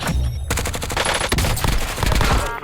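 Dense, loud automatic gunfire from the Black Ops 6 video game, a continuous burst of rapid crackling shots with heavy low-end thumps that runs throughout without pause.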